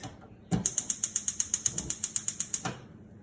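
A kitchen stove knob is turned off with a quick run of about fifteen evenly spaced, crisp ratcheting clicks, close and clear, with no talking.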